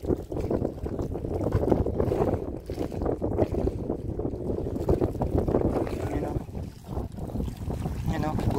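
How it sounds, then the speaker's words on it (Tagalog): Strong gusting wind buffets the microphone at sea on Manila Bay ahead of a typhoon, roaring low and constant around a small fishing boat while people talk. "Kaso malakas na talaga hangin."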